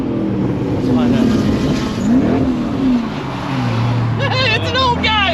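A small Honda Del Sol drives close by with a steady engine drone that rises and falls in pitch as it accelerates, while people talk over it.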